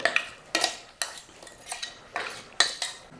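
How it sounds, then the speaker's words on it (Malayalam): A utensil clinks and scrapes against a pot while coconut paste is stirred into moong dal curry, a series of sharp metallic knocks spaced about half a second apart, close and clear, no talking. "ഇപ്പോൾ അരപ്പൊക്കെ ചേർത്തതിന് ശേഷം നമുക്കൊന്ന് ഇളക്കി കൊടുക്കുക."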